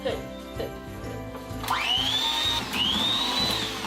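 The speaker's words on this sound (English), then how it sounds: "Please attach this to the mixer." An electric kitchen mixer whirs while mixing Christmas baking batter, its motor winding up sharply partway through and holding a high steady whine, briefly dipping and rising again, close and loud over background voices.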